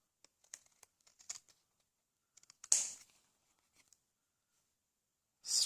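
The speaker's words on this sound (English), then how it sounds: "and just cut them all off." Scissors snipping designer paper along the edges of a handmade card, faint crisp clicks and paper rustles in short clusters, with one louder crinkling cut midway and another at the end; quiet and close, no talking.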